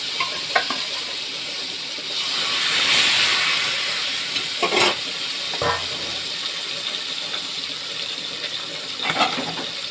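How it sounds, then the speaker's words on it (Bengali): Fish coated in salt, turmeric and chilli powder fries in hot oil in a kadai, a loud close bubbling sizzle with a brief surge of hiss and a few sharp clinks of a utensil, no talking. "মাছটা ভাজা হোক।"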